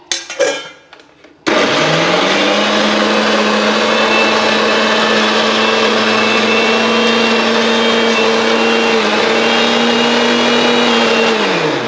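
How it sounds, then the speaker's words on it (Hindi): A mixer grinder grinding garlic whirs loudly and steadily for several seconds after a brief clatter, then its motor pitch starts to drop near the end. "अब हम लहसुन पीस के दिखा रहे हैं आपको"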